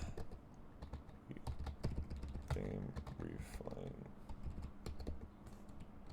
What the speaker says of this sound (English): My typing skills are a joke these days.